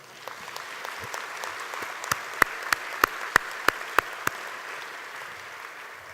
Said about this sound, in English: You can give him a round of applause, you can.